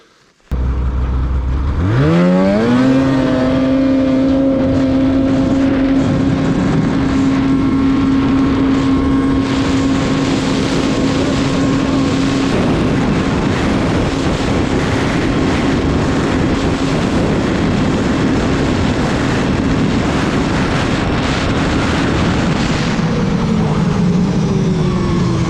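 A Polaris 2020 SKS 850 146 snowmobile engine roars to life and holds a loud, steady high-revving drone at top speed, close and continuous for the whole run, with no talking.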